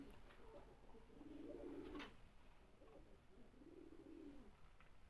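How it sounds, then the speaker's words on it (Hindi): Egyptian pigeons, a male and female pair, cooing softly nearby with two drawn-out low coos separated by a pause over a quiet background. "ये मिस्त्रियों वाले कबूतर हैं, बहुत ही कम आते हैं।"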